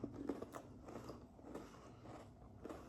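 Someone bites into a crunchy cookie crumble dessert, with a few close, quiet crunches followed by soft chewing, heard without talk.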